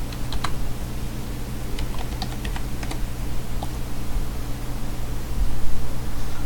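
A password being typed on a computer keyboard: a run of quick, light key clicks in short clusters over a steady background hum, no voices.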